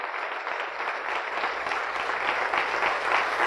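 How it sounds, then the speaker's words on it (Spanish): A church congregation bursts into sustained applause, a dense wash of many hands clapping that swells slightly toward the end, with no speech over it. "Denle un fuerte aplauso a Lupita"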